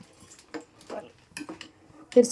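Noodles are stirred in a pot of boiling water, a few sparse clinks and scrapes of a utensil against the pot, close and fairly quiet, with brief sounds of movement between.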